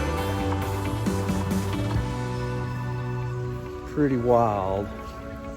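Steady rain falls outdoors during an Oklahoma ice storm, with temperatures just above freezing, making a soft constant patter beneath someone speaking close by.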